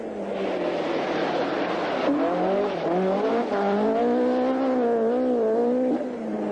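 Close and loud, a privately entered Ford Escort RS 1800 rally car from 1978 roars by, its engine note climbing and wavering through gear changes over broad rushing noise, with a brief tyre squeal.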